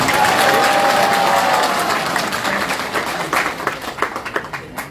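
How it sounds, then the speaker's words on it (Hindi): A crowd claps at a religious gathering in Chhatarpur ahead of a mass wedding at Bageshwar Dham, with dense applause that starts steady and loud, then breaks into looser, scattered claps toward the end. "आप लोग भी वहीं से सीताराम बोल करके ताली बजाकर उनको प्रणाम करें।"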